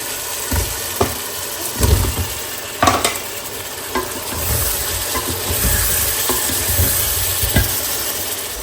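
Eggplant pieces are tipped into a hot pan of fried potatoes in a home kitchen, bringing on a steady sizzle. A few dull knocks of stirring and tossing come through near and clear, with no talking.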